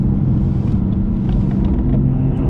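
A BMW M4 accelerating out of a corner on a small race track, heard from inside as a steady, loud, low engine rumble with road and wind noise, continuous and without talk.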